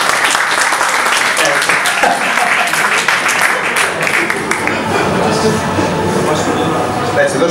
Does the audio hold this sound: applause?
yes